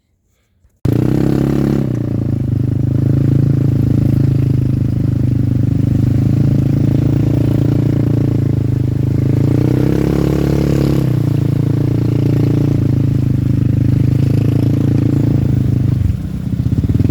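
A CN250 buggy and an XRX 300 motorcycle ride together, their engines giving a loud, steady, rumbling drone with slight rises and falls, heard close throughout after a brief silent start.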